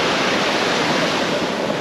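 Sea waves wash onto the beach at Tel Aviv, Israel in a constant, close, loud surf hiss with no break and no voices.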